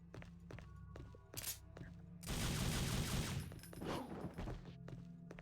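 Gunfire in Devil May Cry 3, a few sharp isolated shots followed by a dense, loud sustained barrage over a low background hum, close and intense before tapering off.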